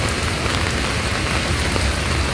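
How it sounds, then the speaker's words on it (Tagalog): Heavy rain pours in Pasig City, a dense, unbroken broadband hiss of water striking surfaces, loud and steady with no voices. "live update lamang dito sa pagbuhos ng malakas na ulan"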